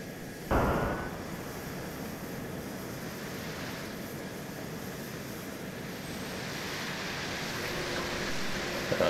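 A military jet in the ArmA II game spooling up for takeoff: a steady, broad engine roar and rushing noise after a sudden onset, holding level with a slight swell near the end, with no voices.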